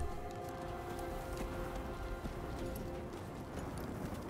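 Horse hooves clip-clop in the Diablo 4 video game, a quiet, busy patter of steps under a faint ambient wash, with no talk.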